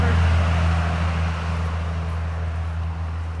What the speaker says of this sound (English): Noisy truck.